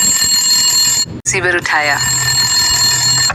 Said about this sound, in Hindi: टेलीफोन की घंटी बजी